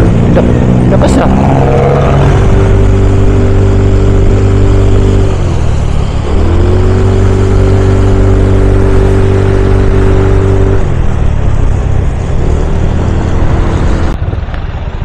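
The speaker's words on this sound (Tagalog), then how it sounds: "parang ganda ng tunog ng makina ko guys" A Mio 125 scooter fitted with a JVT pulley set drones loudly and close, its engine pitch climbing in two smooth acceleration runs with a brief dip between, continuous with no talk over it.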